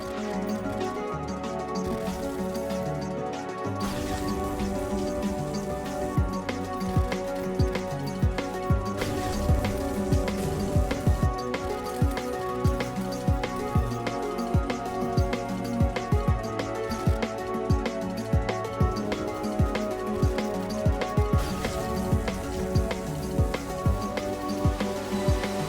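Acid rain falls in the Terraria Calamity mod, a steady dense patter and hiss over layered game music that continues throughout.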